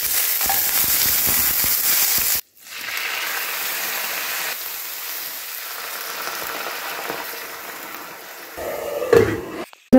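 Ginger frying in a kadhai for a spicy paneer gravy gives off a loud, steady sizzle and crackle. It breaks off sharply for a moment, then returns a little softer, with a few clatters near the end and no talking.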